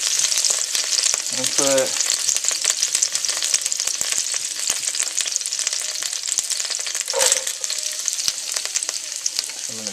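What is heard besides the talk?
onion and carrots frying and sizzling in a pan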